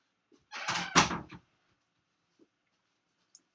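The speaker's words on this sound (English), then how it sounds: "Let me close the door." A room door swings and shuts with a brief rattling sweep ending in a solid thud, followed by a couple of faint small knocks in an otherwise quiet space.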